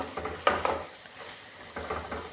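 Potato pakoras slipped a few at a time into hot oil, bursts of bubbling sizzle as each batch goes in, with light utensil contact between them.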